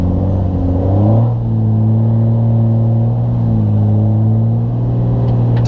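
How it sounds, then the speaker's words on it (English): A big truck's engine revs hard while drifting through a snowstorm: a loud, close, continuous drone that rises in pitch near the start, then holds steady with a rumbling low end. "Drifting big trucks is so much easier compared to cars, dude."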